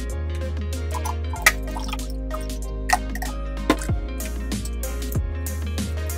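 Lemonade-flavored diet drink mix stirred into water, with small drips, plops and light clinks over a steady low hum; no one speaks.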